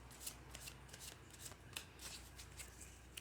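Tarot card deck being shuffled close up, soft riffling flutters and crisp snaps of cards repeating quietly in a steady rhythm, with no voices.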